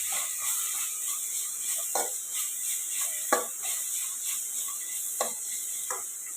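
Semiya kichadi in a pan is mixed with a spatula, soft scraping strokes and small taps recurring every second or so over a faint steady hiss, close and quiet, no talking.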